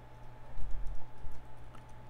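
Typing on a new computer keyboard, a steady patter of close keystrokes with a few heavier thumps, alone over a faint background hum.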